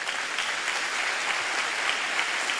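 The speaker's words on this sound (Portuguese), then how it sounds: "Quem pode aplaudir?" Congregation in a church service claps together, a steady, even wash of applause heard at moderate distance throughout.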